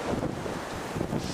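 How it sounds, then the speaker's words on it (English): Strong wind gusts roar across the microphone during a Groundhog Day blizzard in Franklin, Wisconsin, a dense, continuous rushing buffet with no voices. "We still have some 40 mile an hour gusts, and yeah, it's crazy out here yet."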